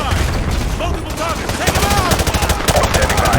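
Sustained automatic machine-gun fire in Call of Duty: Modern Warfare 2, loud and close, with a rapid rhythmic burst of shots that grows more distinct in the second half, set against game ambience with faint voice-like sounds.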